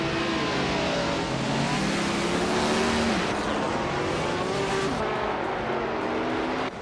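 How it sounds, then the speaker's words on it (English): A vintage 1968 Alfa Romeo T33-2 Longtail race car roars loudly at the Circuit du Var, engine pitch sweeping up and down through gear changes, sustained and close with no talk. "the race kicks off at the Circuit du Var, and leading the pack is the Equinox 2 prototype class in a vintage 1968 Alfa Romeo T 33-2 Longtail"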